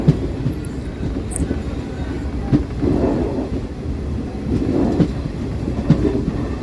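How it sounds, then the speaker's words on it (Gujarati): A train rumbles past nearby during rain near Dholka, Gujarat, with a steady low roar and faint rhythmic wheel clatter, swelling slightly at moments. "અને સામે અહીંયા ટ્રેન જાય છે"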